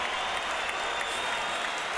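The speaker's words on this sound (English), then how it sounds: "these fans are standing, cheering" A boxing arena crowd at the 2012 Canelo Álvarez vs Shane Mosley fight applauds and cheers in a dense, continuous roar of clapping and voices.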